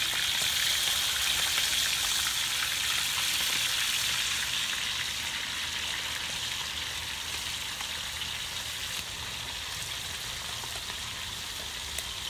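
Chicken pieces frying in hot oil in a pot, a steady broadband sizzle and crackle that carries on without a break, slowly easing off a little toward the end, with no voices.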